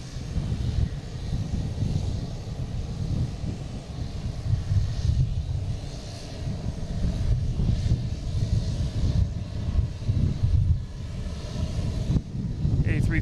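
A Scandinavian Airlines Airbus A330-300 arriving from Copenhagen on approach to land at Boston Logan, its steady low engine roar continuous and fairly distant, mixed with wind buffeting on the microphone.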